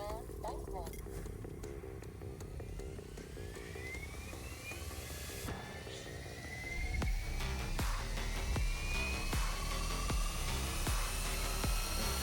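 An RC helicopter with an XL Power Specter three-blade head and tail conversion, run on a Rotorflight setup with an FrSky 18RS receiver, spools its motor up with a rising whine that steadies to a loud drone, while someone talks over it.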